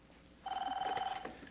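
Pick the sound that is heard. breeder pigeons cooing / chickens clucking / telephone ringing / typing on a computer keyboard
telephone ringing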